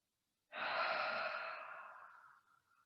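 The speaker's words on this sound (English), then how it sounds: "One more deep breath in, but exhaling through your mouth" A slow, deep breath let out through the mouth at the end of a yoga session, one long soft airy exhale that starts suddenly and tapers away, close to the microphone and on its own.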